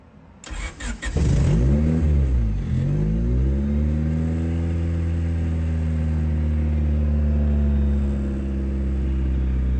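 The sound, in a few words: car engine started and revving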